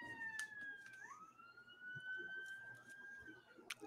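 A police siren wails faint and distant through an open window, its long rising and falling tone sweeping steadily under quiet room noise, with a few brief clicks nearby.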